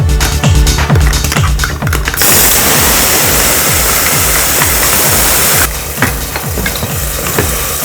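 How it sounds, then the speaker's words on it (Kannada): Ground masala frying and being stirred in a pan for avarekalu pulav, a steady loud sizzle with repeated scraping strokes throughout, no talk. "ಇದಕ್ಕೆ ನಾವು ರುಬ್ಬಿಕೊಂಡಿರುವಂಥ ಮಸಾಲೆಯನ್ನು ಹಾಕಿ ಚೆನ್ನಾಗಿ ಇದನ್ನು ಹುರ್ಕೋಬೇಕು"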